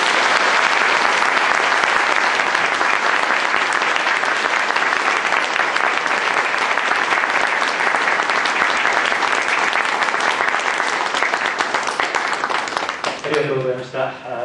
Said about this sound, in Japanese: 的川先生にどうぞ大きな拍手をお願いします。